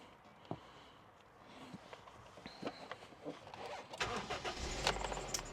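A 2000 Honda CR-V, a factory right-hand-drive model, cranks and fires up, its engine catching near the end and settling into a steady idle after a few clicks and rustles inside the cabin.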